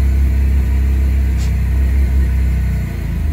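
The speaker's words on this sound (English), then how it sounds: "And then I'm gonna hit the gas and let go of the clutch." A 1995 Mitsubishi Eclipse that will not move idles with a loud, steady engine rumble as the gas is pressed and the clutch let out, the drone holding nearly level with only a slight dip near the end.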